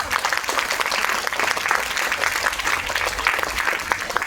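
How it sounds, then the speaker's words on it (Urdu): Loud applause from a crowd welcomes a guest at an Independence Day celebration at an Urdu primary school in Nanded, a dense, sustained clapping that stays near and even from start to finish. "اس پروگرام کے صدر جناب صدیق عتیق احمد سر ہے، ان کا استقبال زوردار تالیوں سے کرے"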